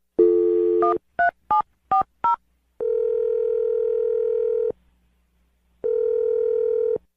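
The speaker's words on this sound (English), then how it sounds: "I'm going to dial her phone number right now." A telephone keypad sends a quick run of five short dialing tones, followed by two long, steady ringback tones separated by a pause. The tones are clean and close, with nothing else heard.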